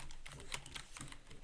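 Rapid, even typing on a computer keyboard while entering code, a quiet stream of light key clicks close to the microphone, with no talking.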